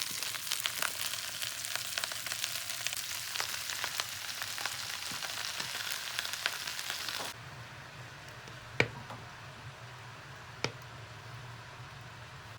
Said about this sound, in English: Seems to be a really pleasant heat for sweating these vegetables.